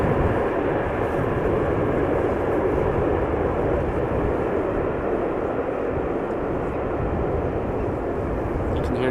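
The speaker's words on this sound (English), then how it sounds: "You can hear the application of the reverse thrust there." An airliner arriving from Atlanta after nearly eight hours of flight touches down at Amsterdam Schiphol and applies reverse thrust, a loud, steady, broadband roar that fills the whole stretch without letting up.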